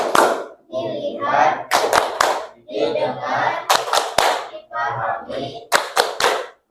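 Schoolchildren in an Indonesian religious education class perform the rhythmic "tepuk fokus" clapping game, chanting in unison between loud, sharp bursts of group claps in quick patterned sets.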